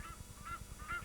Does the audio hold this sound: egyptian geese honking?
yes